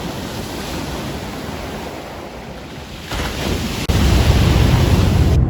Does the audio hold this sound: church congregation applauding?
no